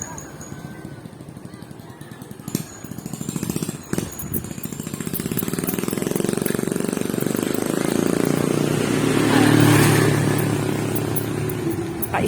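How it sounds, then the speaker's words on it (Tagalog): A parked motorcycle running on its stand, its engine holding a steady low rumble that swells slightly louder partway through, with a couple of sharp knocks early on and faint voices in the background. "Naka-stand guys, tumatakbo yung motor."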